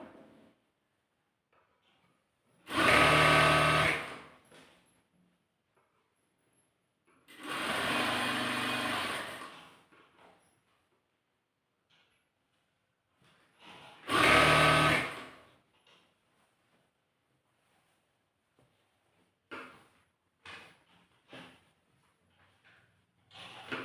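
Sewing machine stitching a slit churidar, running in three loud close bursts of a few seconds each with quiet pauses between, then several shorter stop-start runs toward the end.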